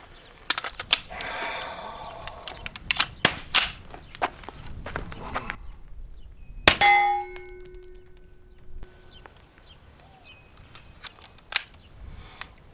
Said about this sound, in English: And these are just falling out of the magazine.